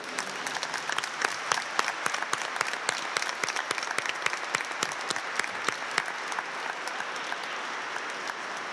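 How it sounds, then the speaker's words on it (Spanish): Congregation applauding during a Sunday Mass for the Assumption, with dense steady clapping that fills the whole stretch at moderate loudness and no talk over it. "Fuerte el aplauso a la Virgen."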